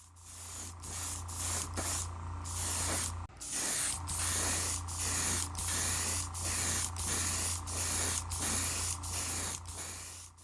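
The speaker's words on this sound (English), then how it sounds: "We will apply 2 coats of the clear right out of the bottle." Clear coat sprayed from a bottle onto a Revell Pontiac Fiero GT model car body, a run of short hissing bursts in a steady rhythm over a low constant hum, close and fairly loud.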